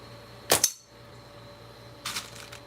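Two slingshot shots outdoors, each a sharp snapping release with a quick double crack, the first louder and the second softer about a second and a half later, over a steady background hum.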